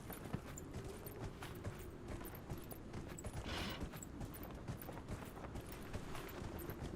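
Horse hooves galloping in the game Dragon Age Inquisition, a steady rapid clip-clop running under soft game ambience for the whole stretch, moderately close and fairly quiet.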